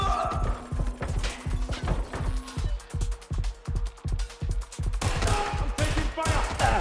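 Rapid gunfire rattles in Watch Dogs Legion, a steady stream of loud, evenly spaced shots hammering in quick bursts with a brief change in tone midway.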